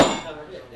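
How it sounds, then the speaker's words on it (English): A plastic mallet smacks a metal tool once, giving a sharp, close strike that rings briefly and fades under quiet room tone. "when you smack a tool with a plastic mallet"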